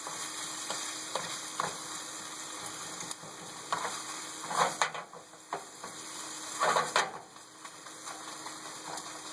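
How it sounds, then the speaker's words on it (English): Carnitas meat sizzles steadily in a hot pan while a utensil scrapes and stirs it, with louder stirring bursts now and then over the constant frying hiss; no talking. "This carnitas meat is cooking so good right now."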